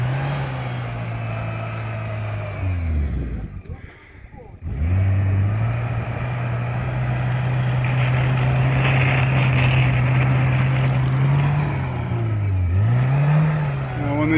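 A UAZ off-roader fitted with VAZ-2108 doors, heading to a winter rally start, revs its engine, which dips and sags briefly, then settles into a steady drone and swells again near the end while voices murmur nearby.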